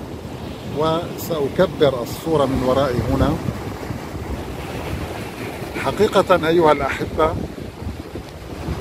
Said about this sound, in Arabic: انظروا هذا الموج